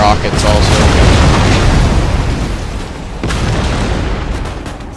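Rocket bombardment in a Napoleon Total War multiplayer battle on Waterloo, loud continuous rumbling explosions close by, with a sharp new blast about two-thirds through; a voice talks over the barrage.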